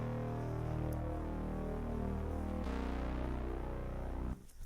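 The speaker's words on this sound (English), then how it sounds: "Just an analog bass sound." Toneflx artist series analog bass preset playing a low, sustained synth bass with gliding, wavering tones and a note change midway, steady and fairly quiet, without any speech.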